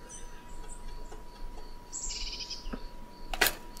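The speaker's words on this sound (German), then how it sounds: "Aber keine Gegner zum Beispiel und vor allem keine Geräusche. Außer Vogelgezwitscher." Light birdsong chirps and tweets from a mountain bike simulator video game, with scattered high calls over a soft ambient background and a brighter burst of chirping near the end.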